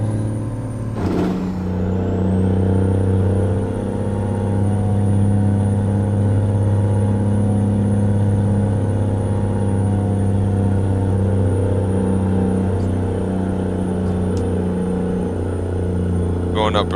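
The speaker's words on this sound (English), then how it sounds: "Y'all like the sound of the engine though?" Simulated heavy-haul B-train truck engine in American Truck Simulator, with a steady deep droning rumble that holds under a brief air-brake-like hiss near the start, loud and continuous while someone talks over it at times.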